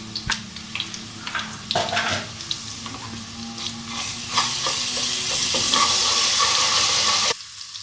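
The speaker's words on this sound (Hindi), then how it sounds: "ज़ीरा डाला, अब साथ ही इसमें लहसुन जाएगा" Steady sizzling of garlic frying in a hot pan with cumin, with occasional stirring scrapes, loud and close, then cutting off abruptly near the end.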